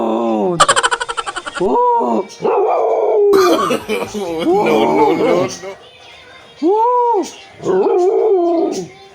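A pet dog howls in a home setting, copying a person who howls first; the dog's rising, wavering howls come in several drawn-out bursts, close and loud, mixed with a human voice imitating the howl and some talk.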